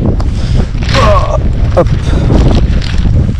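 Strong wind buffets a microphone outdoors beside a cheap, simple garden greenhouse weighted down with stones, rumbling and gusting loudly throughout while someone briefly speaks.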